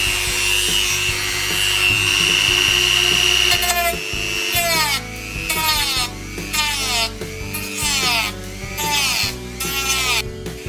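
A rotary cutter grinds out the pod of a model RC surfer. A steady high whine gives way to rhythmic, close grinding strokes that swoop in pitch as the cutter bites and eases off.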